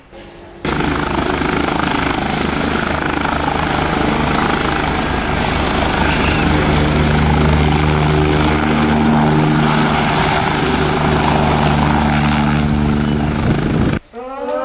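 A helicopter flying close by, its loud, steady rotor thump and engine drone filling nearly the whole stretch before cutting off abruptly near the end.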